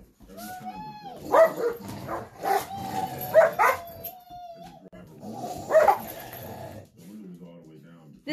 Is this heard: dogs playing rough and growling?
yes